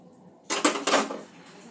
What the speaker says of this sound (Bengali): ডিমের গাটা একটু ছুরি দিয়ে চিড়ে নেব যাতে এর ভেতরে মশলাটা ভালো করে ঢোকে